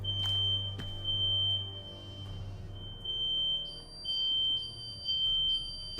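Several smoke alarms going off in a house in the video game Nancy Drew: The Shattered Medallion, shrill overlapping high beeps at two slightly different pitches pulsing out of step over a low steady hum.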